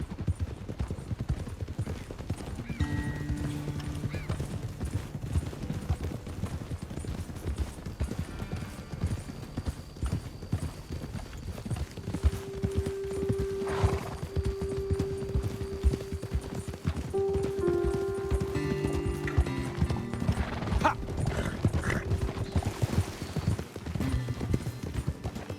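Hooves clip-clop at a walking pace, several horses moving together over a long stretch in Red Dead Redemption 2, with faint music and occasional game sounds in the background.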